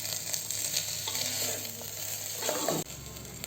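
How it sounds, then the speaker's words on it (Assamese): Rice fried with ginger and garlic in a pan for pulao makes a steady close sizzle with stirring scrapes, swelling slightly before cutting off near the end, with no talk. "চাউলখিনি ভাজোতে একেলগে এইখিনি ভাজি লম"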